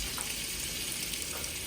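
Andouille Cajun sausage, sliced into one-third-inch rounds, browns in a pan. It gives a steady, soft sizzle that runs unbroken and sits close, with no talking.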